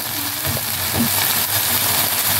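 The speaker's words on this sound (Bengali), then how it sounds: "তো আদা রসুন দিয়ে আর লঙ্কা বাটা দিয়ে একটু ভালো করে কষিয়ে নেবো" Ginger, garlic and chilli paste fry steadily in a pan for a chicken liver and stomach masala, giving a continuous close sizzle with a few soft stirring scrapes and no talk.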